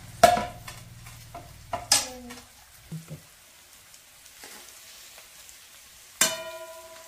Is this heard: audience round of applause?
no